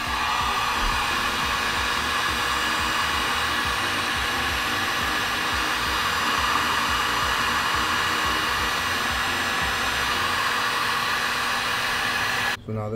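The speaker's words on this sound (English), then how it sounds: "just heat up this heat shrink" Heat gun blowing hot air to shrink heat shrink tubing on a wire terminal, a steady close whirring hiss running continuously before cutting off at the end.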